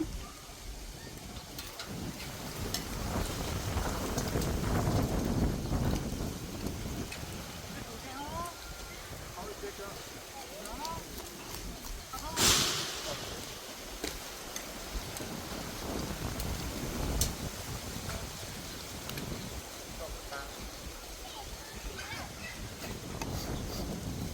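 A strong wind gusts through a garden, making a constant rough roar and microphone buffeting with one sharp burst partway through, while someone talks over it throughout.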